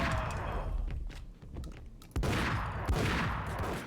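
Gunfire from the video game Max Payne, dense bursts of shots cracking loudly and continuously across the whole stretch with thuds mixed in, no voice over it.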